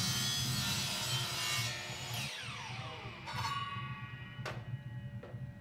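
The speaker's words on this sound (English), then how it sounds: "when you're cutting, make sure to go slowly so you don't take large chips out of the PVC pipe" PVC pipe being cut with a saw, a close, steady rasping, scraping stroke rhythm with a few sharp ticks near the end, no talk.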